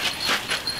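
A dog whimpering with a few short, high, breathy whines close by in a house, with no talk over it.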